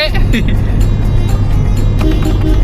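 A lorry approaches on a road during a friends' road trip, heard as a loud, steady low rumble of engine and road noise while people talk over it.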